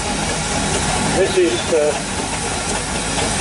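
A 1908 three-speed general purpose steam traction engine at a steam rally arena gives off a loud, steady hiss with engine rumble, while someone talks over it.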